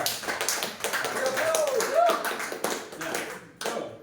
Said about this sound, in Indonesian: Tepuk tangan lagi guru